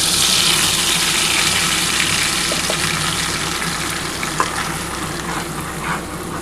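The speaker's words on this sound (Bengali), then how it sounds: "সেই তেলটার মধ্যে যে মশলাটা বেটে রেখেছি সেই মশলাটা দিয়ে দিলাম।" Ground spice paste dropped into oil left over from frying eggs, giving a loud, close, bubbling sizzle with stirring noises that eases a little toward the end; no voices.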